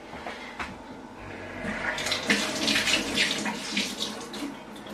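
Water runs from a tap to dampen a makeup sponge, a steady close splashing stream that swells and grows louder partway through, with no talk.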